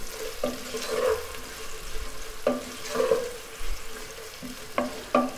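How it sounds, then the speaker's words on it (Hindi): Chopped onions frying in melted ghee, with a soft steady sizzle and intermittent stirring scrapes and clinks from a spoon, fairly quiet and close. "अब मैं इसमें ऐड कर दूंगी कटी हुई प्याज। इसको हम 1 मिनट के लिए फ्राई करेंगे।"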